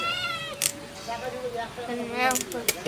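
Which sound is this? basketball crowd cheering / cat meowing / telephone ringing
cat meowing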